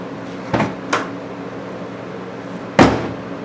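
A car door is shut after rear quarter panel and door repair, giving two light knocks and then a firmer single thump against a faint steady background hum.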